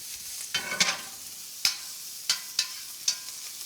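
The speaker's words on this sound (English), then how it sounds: "Now we want to get these mushrooms and these shallots sauteing." Mushrooms and shallots sauté in a pan with a soft, low sizzle, punctuated by several sharp spatula scrapes and taps, quiet and close with no voices.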